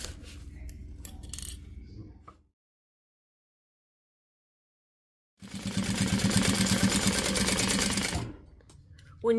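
A sewing machine top stitching fabric runs in one fast, even burst of about three seconds after a pause, close and clear, with faint handling noise around it.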